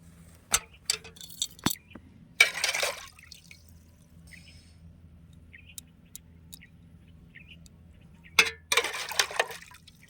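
Gold-coloured imitation chain rinsed in fresh water: two short bursts of splashing, trickling water, separated by a quiet stretch with a few small drips and clicks. No one speaks.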